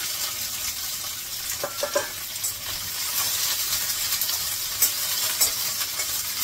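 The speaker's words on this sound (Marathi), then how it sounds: "भेंडी मी अशी फास्ट गॅसवर थोडंसं भेंडीला चटका लागोपर्यंत भाजून घेतली." Okra sizzling and crackling as it fries in a pan over a high gas flame, a steady close hiss with occasional louder pops and stirring scrapes.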